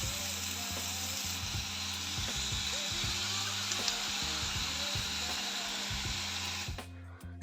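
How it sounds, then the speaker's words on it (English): Onions with agave syrup sizzle and fry in a pan with a steady crackling hiss, marked by occasional soft stirring clicks, close and continuous. "add 2 teaspoons of agave syrup to the onions."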